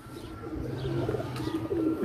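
Pigeons kept by a breeder on a rooftop, golden breed birds among them, coo steadily in low, rolling calls with faint chirps above, close and continuous with no talk.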